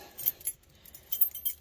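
Original American Motors keys for a 1976 AMC Gremlin jangle on their ring in two short bursts of bright metallic clinks, close up with quiet gaps between.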